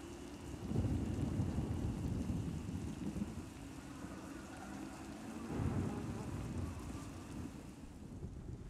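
Steady rain and rumbling thunder fill a storm scene in Star Wars: The Old Republic, a continuous low roar with heavier swells near the start and again around the middle, no voices.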